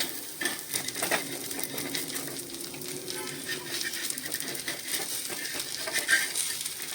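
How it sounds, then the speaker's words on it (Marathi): A dosa fries in oil on a clay tava, giving a steady close sizzle with light scraping and utensil clinks on top, and no talking. "थोडंसं तेल सोडलं बघूया आता कसा काय आपला ढोसा येतो ह्या सगळ्यामध्ये"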